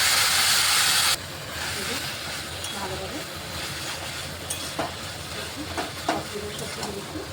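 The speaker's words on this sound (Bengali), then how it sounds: "যে আলুটাকে একটু আমি ভেজে দিচ্ছি" Potatoes, greens and panch phoron spices fry in hot oil in a pan, giving a continuous close sizzle and hiss. A sharper burst of sizzling opens the sound, and faint stirring clinks follow.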